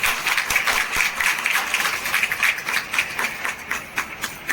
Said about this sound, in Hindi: सबके लिए बार जोरदार ताली बजाएं।